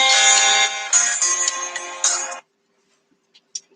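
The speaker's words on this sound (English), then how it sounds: "Can't answer the phone right now." A phone rings indoors in an RV, a loud electronic melodic ringtone lasting about two and a half seconds before it suddenly cuts off, followed by near silence with a couple of faint clicks.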